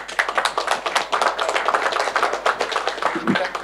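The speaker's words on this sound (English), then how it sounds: "Let's give him a big applause." Audience clapping at a university panel event for a departing speaker, rapid overlapping hand claps from a modest crowd, fairly close and continuous throughout.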